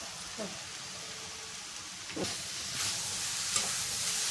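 Cabbage and coconut frying in a home kitchen pan, with a steady broadband sizzle and a few soft scraping stir strokes, moderately close and continuous without talk.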